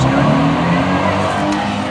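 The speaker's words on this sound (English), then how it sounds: "loud rotary engine." A loud car with a rotary engine drones and roars close by on a city main street, a dense continuous engine note with tire noise and no pause.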